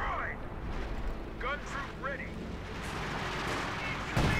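Gunfire and battle noise from the World War II strategy game Company of Heroes 2, a dense rumble of shots and blasts mixed with game unit voice lines throughout.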